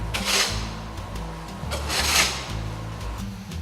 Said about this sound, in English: I'm raking grit.